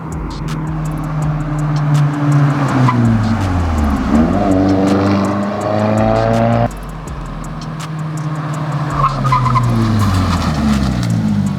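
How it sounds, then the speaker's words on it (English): A 2022 Subaru WRX fitted with EBC brake pads, engine note dropping and tires squealing under hard braking, loud and close throughout, with a brief dip partway through. "let's see if these EBC pads make a big difference in stopping"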